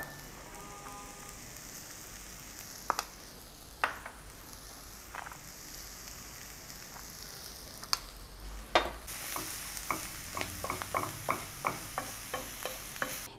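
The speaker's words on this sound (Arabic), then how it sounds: "لحد بس لما يتشوح بسيط قوي، مش عايزاه يدبل خالص" Spinach filling is sautéed and stirred in a pan, making a quiet, low sizzle broken by scattered scraping taps of a utensil that turn into a quick run of clicks near the end.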